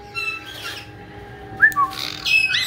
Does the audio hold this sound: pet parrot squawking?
yes